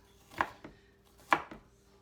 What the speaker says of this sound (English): I do want to chop up the onions very small